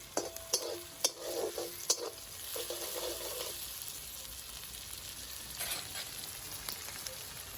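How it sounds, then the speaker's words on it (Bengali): Onions sprinkled with a little salt fry in a pan until reddish, a steady close sizzle with sharp clinks and scrapes of a stirring spoon in the first few seconds, then quieter continuous frying. "পেঁয়াজটা কিন্তু আমি লাল লাল করে ভেজে নেব"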